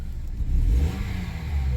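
A 2004 Honda Accord engine running after repair, heard as a smooth mid-pitched idle that briefly swells as it revs, close and steady, with no talking.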